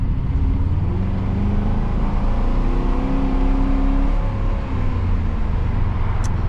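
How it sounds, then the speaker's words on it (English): Car engine held at redline with the gear failing to shift, a loud sustained high-revving whine with rising and falling harmonics, close up and steady for several seconds. "It was there for about 2 seconds and just stuck in redline."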